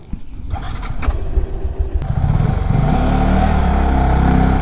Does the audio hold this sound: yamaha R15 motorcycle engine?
yes